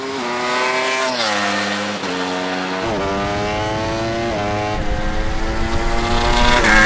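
An Audi RS car and a Ducati motorcycle drag race, with loud engines revving up through rising pitch sweeps and sharp drops at gear changes. The climbs overlap and push hard throughout, with no talk.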